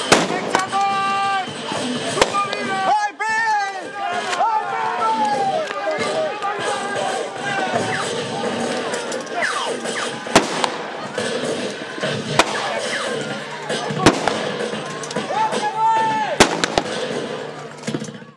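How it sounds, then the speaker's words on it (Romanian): Rifle volleys and single shots crack sharply at a military battle reenactment at the Jiu bridge in Târgu Jiu, recreating a 1916 battle, over a dense, noisy crowd background, with loud reports recurring irregularly throughout. "a răsunat din nou de focuri de armă"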